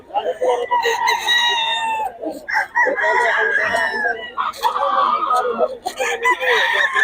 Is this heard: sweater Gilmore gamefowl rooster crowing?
yes